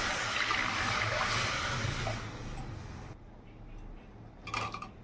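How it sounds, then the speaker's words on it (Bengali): Water poured into mashed boiled lentils in a pot, a steady rushing pour for about three seconds that fades to a softer trickle, ending with a brief clink of a utensil. "তো এই যে এখন ঘুটে নিয়ে জল দিয়ে দেবো"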